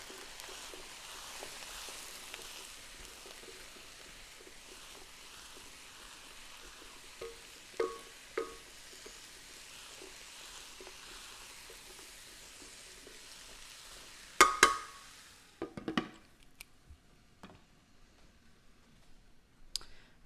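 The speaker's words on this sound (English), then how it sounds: "let me give this a quick stir as these are cooking" Food cooks in a pan with a faint, soft sizzle while a utensil gives a few quiet stirring clicks, then a louder burst of scraping and clatter near the middle before settling back to a low hiss.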